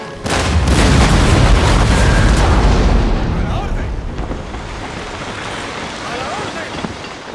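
Heavy cannon fire from warships in an Empire: Total War naval battle between pirates and Spanish ships, a loud rumbling boom that swells and slowly fades into a low continuous roar with scattered distant reports.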